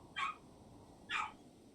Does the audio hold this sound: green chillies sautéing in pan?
no